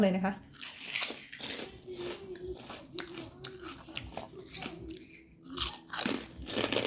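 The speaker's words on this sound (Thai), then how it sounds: "อืมแคบหมูกรอบมาก" Crispy fried pork rinds are crunched and chewed close up in a series of sharp, brittle bites, eaten alongside rice, green chili dip and cucumber, with someone talking between the crunches.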